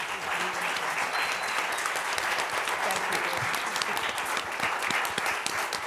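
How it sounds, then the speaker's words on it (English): A panel discussion audience applauds steadily, dense clapping filling the space at an even loudness throughout, with no pauses. "would you help me applaud our panelists here for this conversation?"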